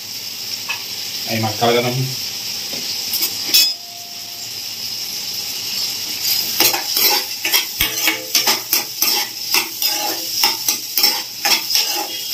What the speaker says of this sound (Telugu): ఆనియన్స్ ఫ్రై చేశాక మిగతా వెజిటేబుల్స్ ఫ్రై చేసుకోవాలి.